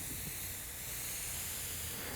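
An airbrush sprays golden yellow paint over frisket, giving a steady, even hiss of air and atomized paint that runs unbroken and fairly quiet throughout.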